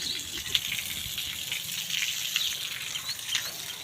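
A pressurised stream of water hisses and gushes steadily, as a rooftop watering spray on a second floor of a village house, with small splashy bursts recurring throughout.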